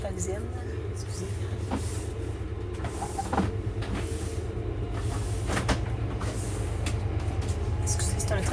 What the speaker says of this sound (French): c'est un train qui passe, c'est assez fort le son.